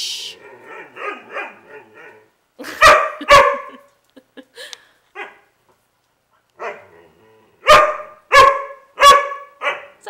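Dogs bark in sharp bursts, nearby and loud, with softer yips and whines between the barks and quiet gaps.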